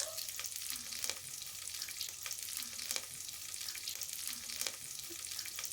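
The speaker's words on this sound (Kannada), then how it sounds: "ಈಗ ಕರಿಬೇವಿನ ಸೊಪ್ಪನ್ನು ಸೇರಿಸ್ಕೊಂಡು ಫ್ರೈ ಮಾಡ್ಕೊತಾ ಇದ್ದೀನಿ" Curry leaves and onion fry in a pan with a steady close sizzle and crackle, broken by faint soft scrapes and taps of stirring, with no voices.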